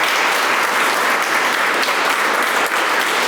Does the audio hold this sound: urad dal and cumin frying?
no